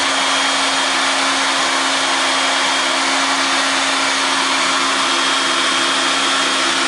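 A heat gun blows steadily on CPU parts being heated for gold recovery, a close, continuous airy roar with a fixed hum running unchanged throughout, no voices.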